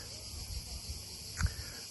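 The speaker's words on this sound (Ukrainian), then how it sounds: "Чуєте, як цикади." Cicadas by the seaside in Croatia keep up a loud, steady, high buzzing drone throughout, with a brief low thump partway through.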